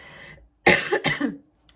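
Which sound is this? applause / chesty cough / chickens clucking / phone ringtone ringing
chesty cough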